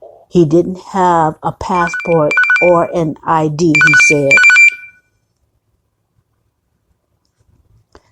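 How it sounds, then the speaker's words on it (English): A telephone rings in short chirping bursts beneath someone talking in the foreground, then everything falls silent for the last few seconds. "Sorry, that was the phone ringing."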